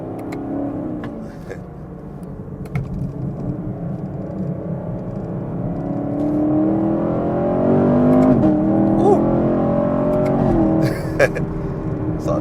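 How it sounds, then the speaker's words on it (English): A stock-exhaust Chevy Camaro SS pulls hard from inside the car, its engine note climbing steadily as it accelerates on a road among traffic, loud and continuous throughout. "Exhaust sounds amazing. Dang, I forget how good these were, stock exhaust."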